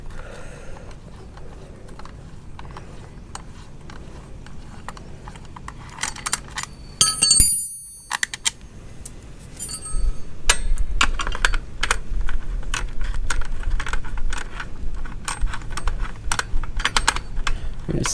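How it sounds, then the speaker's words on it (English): An 8mm socket clicks and ratchets while pre-loosened bolts come off a 2021 Honda CRF110 front sprocket cover, making rapid close metallic ticks and small clinks, with one brief quiet gap partway through. "So to take this cover off, all you need is an 8mm."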